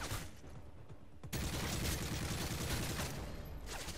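Bursts of gunfire in a survival video game, a quieter rattle at first that breaks into a sustained, dense volley of rapid shots lasting several seconds.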